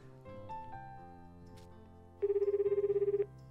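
A phone rings in a visual novel video game, a rapid trilling electronic tone lasting about a second, clear and close, following soft background music notes.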